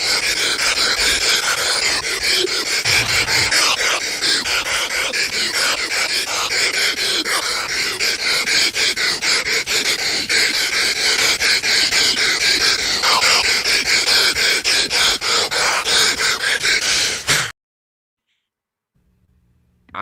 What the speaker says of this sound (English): So you wanted the Hulk Hogan breathing.